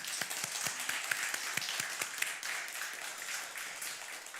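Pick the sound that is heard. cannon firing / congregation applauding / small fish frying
congregation applauding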